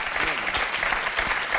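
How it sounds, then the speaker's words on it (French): Applause from a studio audience during a French television interview, a dense steady wash of clapping lasting throughout with no voices on top. "Tout le monde applaudit."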